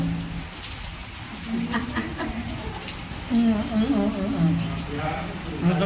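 Rain falls steadily outdoors, a soft, continuous patter heard at moderate distance while voices talk over it.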